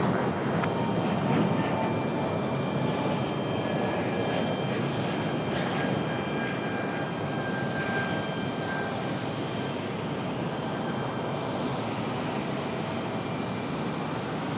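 An airplane takes off from runway 23 right at Raleigh-Durham International Airport, its engines producing a loud, steady roar that fills the whole stretch without pause.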